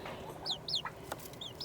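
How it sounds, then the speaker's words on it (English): Bully roosters cluck in a series of short, sharp calls, several bursts spaced through the moment, fairly close and clear over a soft background hum. "They're bully roosters."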